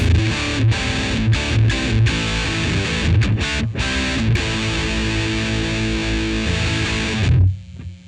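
Electric guitar driven through a Homework Series BLUES Drive pedal pushed into fuzz, playing loud, saturated chords and sustained notes with a few brief breaks before ringing out at the end.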